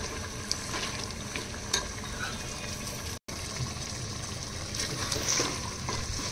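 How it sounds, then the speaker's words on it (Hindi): Masala for chicken do pyaza, with yogurt mixed in, fries in a pan with a continuous loud sizzle and bubbling. Stirring scrapes run throughout, with a brief break midway. "और अभी मैं इसे अच्छे से भूनती हूँ"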